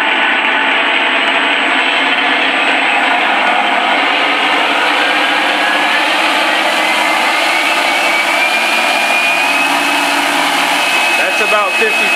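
A Starmax A-1 Skyraider model plane's engine, fitted with a sound mod, roars loud and close, a continuous buzzing drone that throttles up from idle and holds high throughout.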